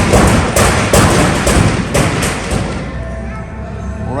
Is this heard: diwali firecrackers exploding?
yes